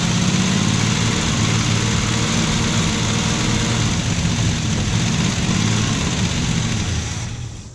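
A 1968 Dodge Charger's engine, parked for 20 years, runs briefly on ether with a loud, steady, rough drone and no talk, fading slightly at the end.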